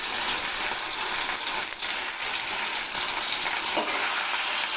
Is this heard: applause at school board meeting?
no